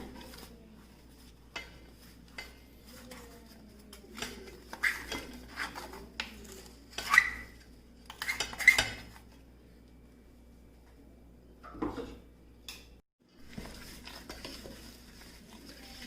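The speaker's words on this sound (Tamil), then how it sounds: "சுகரை கொஞ்சம் லேசாக கலக்கிக்கலாம்." Sugar is stirred into melted butter in a pan, with quiet, scattered scrapes and light clinks of the utensil against the pan, spaced irregularly over a low background hum.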